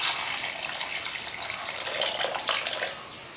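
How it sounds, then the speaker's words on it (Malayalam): Water pours into a cooking pan for chicken tikka dry, a steady, soft splashing hiss that runs continuously, swells slightly near the end and then tapers off. "ഇനി നമ്മൾ ഇതിലേക്ക് വെള്ളം ഒഴിച്ച് കൊടുക്കണം."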